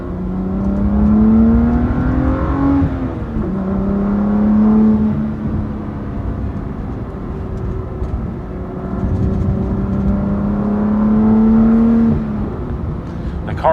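A BMW M2 CS fitted with a Carbahn Stage 2 piggyback tune accelerates hard in second gear, its engine note rising in long revving sweeps that fall back between pulls, loud and close inside the car.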